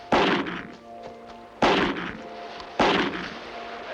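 Three loud, sharp gunshots ring out at even intervals toward a boat drifting away, each blast followed by a short rumbling decay.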